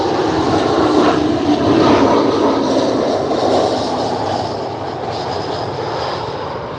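A passing airliner in Southwest livery at Cleveland airport gives a loud, steady jet roar that holds for several seconds, then eases slightly as it moves on, with no talk.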